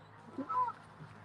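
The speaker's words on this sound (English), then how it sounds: "here ducks, and there is a goose." A goose by the water gives a short nasal honk, a single close call rising briefly over faint outdoor background.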